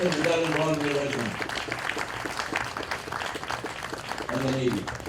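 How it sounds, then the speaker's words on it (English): Applause at a veterans morning ceremony for a volunteer regiment battalion, a crowd clapping through the middle stretch while an announcer speaks over the start and end on a public address system. "applause, ladies and gentlemen, for the 2nd Battalion Volunteer Regiment"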